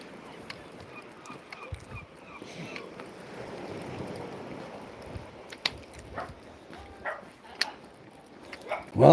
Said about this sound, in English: Well, I can hear somebody's dog.